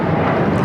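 Airliner taking off at LAX, a loud, steady broadband engine roar that holds evenly throughout without fading.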